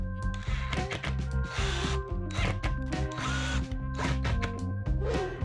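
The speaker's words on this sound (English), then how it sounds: "then screw it down securely." A power drill drives screws to fasten an in-ceiling surround speaker box in place, whirring in repeated short bursts with brief pauses between them, close by and fairly loud.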